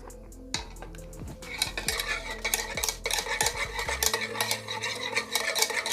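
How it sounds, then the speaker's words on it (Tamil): Two eggs and oil are stirred together in a bowl for homemade mayonnaise, with rapid, repeated utensil scrapes and clinks against the bowl, heard close and with no talk. "எடுத்து வச்சிருக்க அந்த 2 முட்டையை ஃபர்ஸ்ட் போட்டு நல்லா mix பண்ணிக்கங்க"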